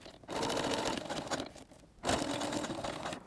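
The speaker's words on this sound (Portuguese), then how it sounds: "Então eu vou costurar aqui na linha da carretilha" A sewing machine stitches along a ballet bodice seam in steady bursts, its buzzing motor running close and fairly loud with a short pause before it starts again.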